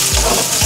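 Chopped onion frying in a pan for kanda poha, a loud, close, continuous sizzle with a bright hiss and faint bubbling, no voices over it.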